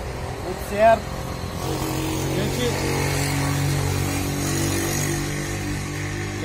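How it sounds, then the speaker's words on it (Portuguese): Cars and motorcycles pass on a nearby road in a steady traffic drone with one brief louder engine swell early on, while people talk over it. "Vai ter bastante barulho dos carros, moto passando."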